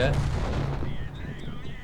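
An IS-7 heavy tank's main cannon fires once in a tank video game, a loud close blast that rolls off into a fading rumble.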